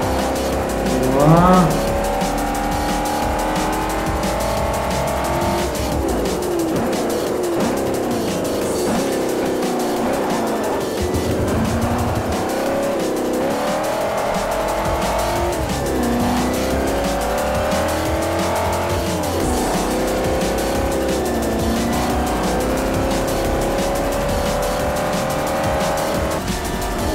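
Race cars in Forza Motorsport 4 scream through a Class B championship race as engines rise and fall through the gears, with repeated tire squeals and skids on the corners, loud and continuous, with no talking.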